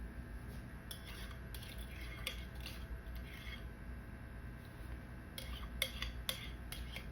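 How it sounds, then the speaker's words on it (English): A spatula rasps around a mixing bowl of cream cheese pound cake batter after six eggs have gone in. Soft continuous scraping is broken by a few clinks against the bowl near the end, with no talking. "We're gonna scrape our bowl down."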